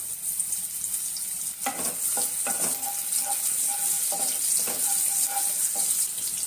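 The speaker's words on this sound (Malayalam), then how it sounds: "ആദ്യം നമുക്ക് ഇതിലേക്ക് കുറച്ച് സെലറി ഇട്ട് കൊടുത്തിട്ട് ഒന്ന് വഴറ്റി കൊടുക്കുക." Celery sautés in a little oil in a pan for gobi manchurian, a steady bright sizzle with several scraping stirs and clinks of the spoon, loud and close.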